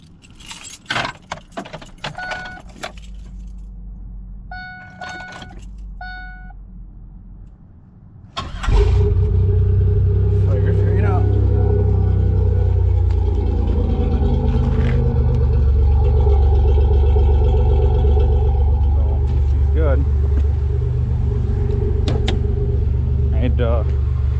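A supercharged Pontiac Grand Prix is started after a fuel pump replacement. Keys jingle first, then a short crank catches, and the engine settles into a loud, steady idle close by with a little talk over it.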